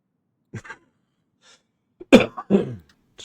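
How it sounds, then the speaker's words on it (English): A person with a lingering cough gives a few short, sharp coughs close up, one small burst early, then a louder cluster of two or three coughs with throat noise after a quiet pause. "Still have the lingering cough, as you will hear, which is no fun"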